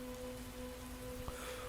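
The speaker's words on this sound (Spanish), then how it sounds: "La lluvia continuaba y no amainó en ningún momento." Steady rain falling in a constant even hiss with a faint low hum underneath and one brief tap near the end, with no voices.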